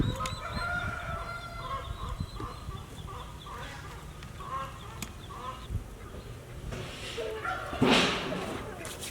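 Farm ducks call with honking, quacking bursts among other fowl, loud and close for a moment near the end over a steady outdoor background, with people talking.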